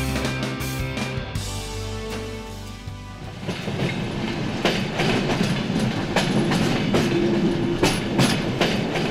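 An Indian Railways train runs on the tracks, starting with a low rumble and tonal hum, then a loud, continuous rattle of wheels and cars with rhythmic clickety-clack close by.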